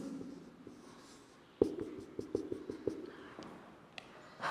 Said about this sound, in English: I write here very clearly